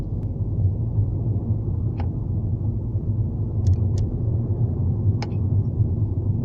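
A Hyundai i30 gives a few sharp, isolated clunks as the accelerator is released, spaced irregularly over a steady low engine and road rumble.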